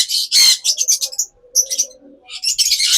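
Home-bred pet lovebirds give close, sharp bursts of high chirps and squawks in quick clusters, separated by a short pause.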